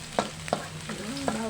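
Garlic sizzles steadily in a hot frying pan while a utensil scrapes and stirs with a few sharp clinks, close and fairly quiet, no talking.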